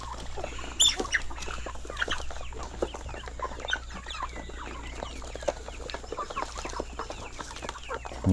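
Chickens on a farm clucking close by, a busy overlapping chorus of short clucks and chatter with a louder squawk now and then over a low background hum.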